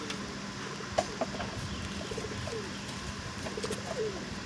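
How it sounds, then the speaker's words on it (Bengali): Pigeons at a pigeon market coo softly in a steady background of crowd noise, a few brief calls rising above the bustle, with no clear talk. "দেখো বন্ধুরা ভালো ভালো কবুতর পাচ্ছেন"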